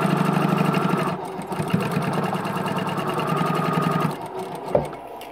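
A domestic sewing machine stitching a pieced quilt block, running in a fast, steady mechanical whir with a rhythmic needle clatter, close and loud for about four seconds before slowing and stopping with a small clunk.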